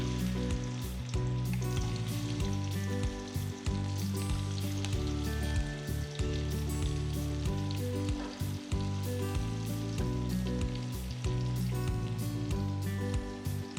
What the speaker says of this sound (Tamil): இப்போ நம்ம எண்ணெய் காஞ்சதுக்கப்புறம் 3 வெங்காயம் வெட்டி வச்சுருக்கோம்ல,